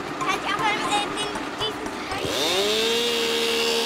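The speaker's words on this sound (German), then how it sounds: "Konstantin hat eine Motorsäge." A firefighters' chainsaw from a fire truck starts up and rises to a steady, loud motor whine. Children's voices chatter before it.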